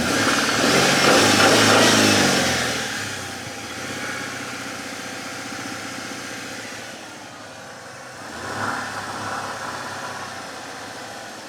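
Engine of a 1996 Mercury Cougar XR7, long unused and running on bad gas, revs up loudly at first then settles back to a rough idle, with a second brief rise near the end; no talking.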